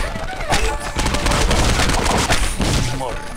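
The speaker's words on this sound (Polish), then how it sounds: "Wszędzie strzały." Gunfire erupts in the video game Postal 2, with dense bursts of rapid shots and booms crowding a few seconds, alongside a faint voice.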